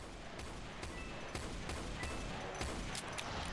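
Chain gun in Doom firing steady repeated shots at a low, muffled level, a regular rhythm of bursts over continuous background noise.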